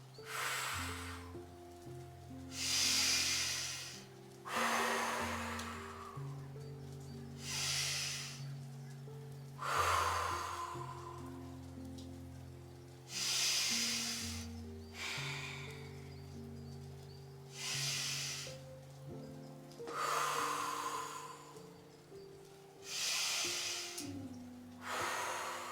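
Slow, deep breaths during a gentle spine-mobilizing yoga sequence, each long airy exhale rising and fading in a steady rhythm, about seven breath cycles, close and alone over soft background music.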